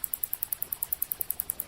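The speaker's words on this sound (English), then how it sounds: "That's the sound of a narwhal looking for food using echolocation" A fast, regular train of sharp narwhal echolocation clicks while foraging, about ten per second, crisp and steady over a faint background hiss.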